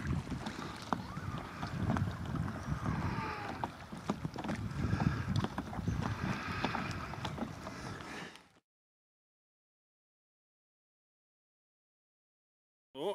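Small boat motoring across a bay with wind buffeting the microphone, a steady rushing hull and engine noise that cuts out abruptly to silence near the end.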